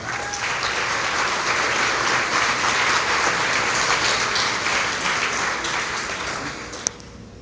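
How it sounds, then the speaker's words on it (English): A large crowd of about 600 real estate agents applauds steadily for several seconds, a dense wash of clapping that fades slightly toward the end. "Would you please give a warm welcome to Ludin?"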